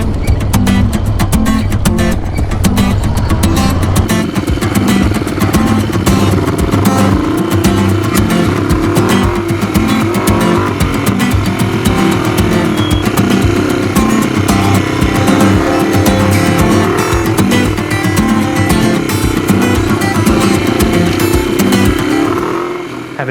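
Motorcycles, a 2021 Ducati Desert Sled and a 1978 Yamaha, ridden off-road around Moab, their engines loud and close with repeated revving and shifting pitch under steady wind noise, running continuously throughout.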